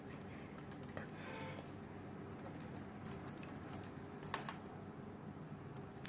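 Soft, scattered keystrokes on a computer keyboard as a code comment is typed, quiet and irregular over a low room hum, with no speech.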